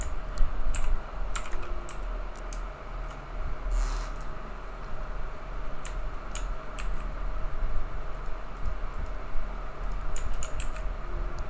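Rapid computer keyboard typing with bursts of key clicks and shortcut presses, close and steady, over a low electrical hum with no talking.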